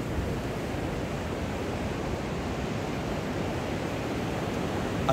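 Ocean surf rolls onto a beautiful Costa Rica beach in a steady, loud, broadband wash with no distinct breaks, close and continuous throughout.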